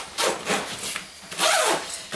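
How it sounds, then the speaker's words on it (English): Zipper pulled closed around the wheel compartment of an EVOC bike bag, several quick rasping zip strokes close by with short pauses between them and no talking. "Zip that up so it stands up."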